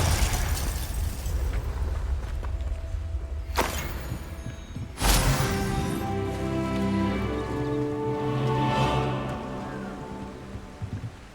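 Two sharp magical blasts from the Confringo spell in a Harry Potter video game, each a sudden loud boom with a lingering crackling tail over steady game ambience and music.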